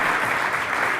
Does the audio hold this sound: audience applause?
yes